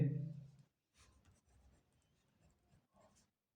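Pencil or pen writing a math answer on paper, a few soft scratchy strokes in short bursts, faint and close, after a brief low sound at the start.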